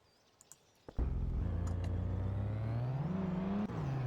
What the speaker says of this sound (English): This mod I downloaded, it has like different engine sound presets.